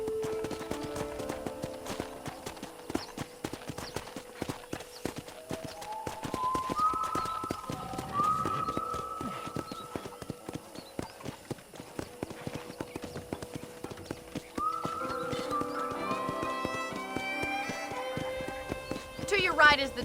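Horse hooves clip-clop steadily on a ranch in the Red Dead Redemption video game, a continuous walking rhythm that runs under game music and talking voices.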